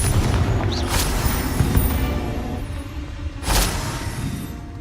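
A fire spell explosion cast in Hogwarts Legacy, heard as a loud rumbling blast with a sharp burst near the start and a second bright burst later, over a continuous low roar of game effects.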